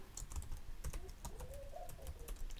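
Rapid, steady typing on a computer keyboard while entering data into an Excel sales dashboard, with close, dense key clicks running throughout and no speech.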